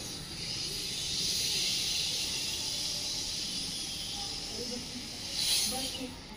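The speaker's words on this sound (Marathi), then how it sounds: "छान, कुकरच्या शिट्टीसारखा आवाज आला." People, likely a school group doing a breathing exercise, breathe out in a long, steady hiss like a pressure cooker whistle, sustained throughout with faint voices and a brief swell near the end.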